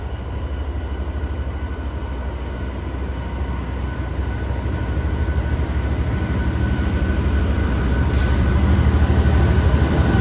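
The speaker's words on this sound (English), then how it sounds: "here comes the next freight train. It's another shed." A GBRF Class 66 diesel freight locomotive and its wagons pass, a steady low rumble that slowly builds in loudness, with a brief high squeal near the end and no talk.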